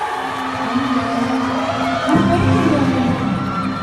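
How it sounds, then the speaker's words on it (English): An audience at a DragonMart event in Dubai with Miss Universe Pia Wurtzbach claps and cheers, the crowd noise swelling with whoops partway through, mixed with voices and background music. "Can I give you a round of applause, please, for Pia Wurtzbach?"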